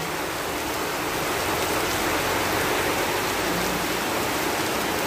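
Heavy rain pours down over open fields in a dense, unbroken roar, loud and even throughout, with wind adding to the steady wash of noise.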